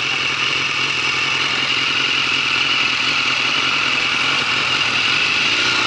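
A motorcycle engine idles steadily and close by during a category A riding test on a test route, a continuous loud rumble with an even, unbroken tone and no speech.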